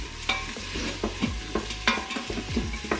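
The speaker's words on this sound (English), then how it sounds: "It's sizzling. It's making the sounds." Food sizzling while cooking in an Instant Pot, a steady close frying crackle broken by scraping stirring strokes and small clinks at irregular intervals, with no talking.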